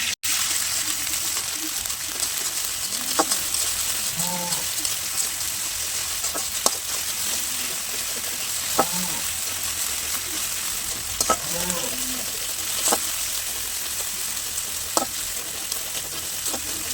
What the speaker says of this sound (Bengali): তেলের উপর মশলাগুলো খুব ভালো করে ভাজবো।